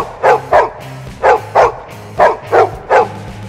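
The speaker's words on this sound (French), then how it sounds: "nous commençons par le chien le plus terrifiant de la galaxie" Seven loud, sharp dog barks in a steady rhythm, close and alone, standing in for the mascot dog of a miniatures army.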